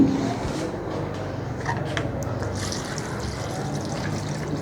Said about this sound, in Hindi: अब इसमें हमने डालना है पानी।